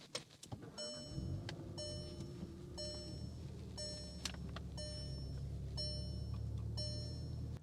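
2025 Volkswagen Jetta GLI engine cranking and catching, then settling into a smooth idle, with repeated chime tones sounding over the engine hum.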